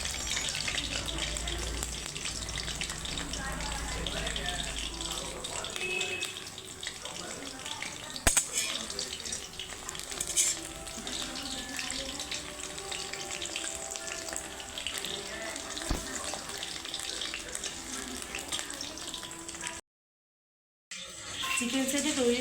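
Chicken satay pieces frying steadily in hot oil, a continuous close sizzle and crackle with brief clicks, broken by a short silent gap near the end.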